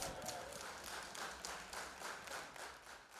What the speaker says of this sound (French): il a été accueilli sous des applaudissements bien nourris